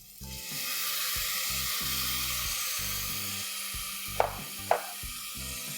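Tomato puree frying in a pan for mutton masala gives a steady broadband sizzle throughout, with two sharp clinks of a spoon against the pan near the end and faint background music.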